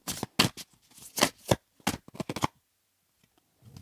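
Tarot cards shuffled and drawn by hand during a card reading: a run of crisp, papery riffles and slaps in uneven bursts, close and fairly loud, before the sound stops and near-silence follows.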